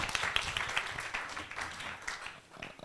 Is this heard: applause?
yes